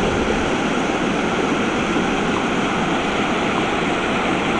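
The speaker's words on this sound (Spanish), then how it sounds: "estamos aquí en la fervenza de Donas, el concello de Bocaixón" Steady broadband roar of the Fervenza de Donas, a large waterfall on a small river in the Concello de Bocaixón, Galicia, continuous and loud with no voices over it.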